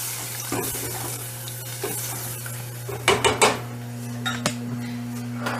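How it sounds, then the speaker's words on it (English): Water is poured into a cooking pot of Jamaican jerk chicken amid clinking of cookware and utensils, with a low steady hum in the background. "And then you're going to add your cup of water."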